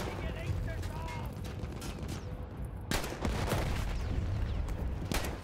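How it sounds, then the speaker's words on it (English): Battlefield 1 combat rumbles on with a steady wash of distant gunfire and mechanical clatter under a continuous low roar, a louder burst breaking in midway. "Skyjockey's under heavy fire"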